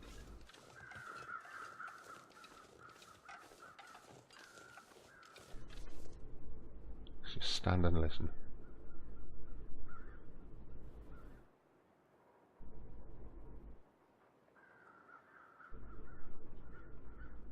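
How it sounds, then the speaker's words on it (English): Crows cawing in the snowy wilderness of the survival video game The Long Dark, a burst of calls rising mid-clip over steady wind and ambient hum, with a brief spoken line near the start. "Let's roll with the idea that there's 2 sets of crows up here."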